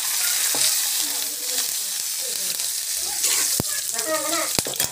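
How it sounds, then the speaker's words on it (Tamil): Curry leaves and chili sizzle and crackle in hot oil as a tempering for puliyodarai tamarind rice, a steady close frying hiss with sharp pops near the end. "நல்லா வந்து வதக்கிட்டுக்கோங்க"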